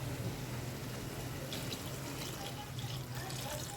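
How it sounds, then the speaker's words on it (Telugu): Water poured into an egg curry in a home kitchen, a continuous faint splashing stream under a low steady hum, without clear speech. "మనం వాటర్ పోసుకోవాలండి మనకి ఎంత కావాలో కర్రీకి సరిపడినంత వాటర్"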